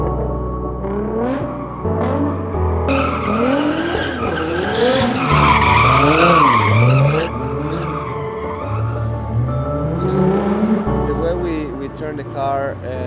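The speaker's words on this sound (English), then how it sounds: "So the car is a rear wheel drive GTR, which there's not very many in the States." A rear-wheel-drive Nissan GTR R35 converted from all-wheel drive skids with long, loud tire squeals, rising and falling over a roaring engine that revs hard throughout.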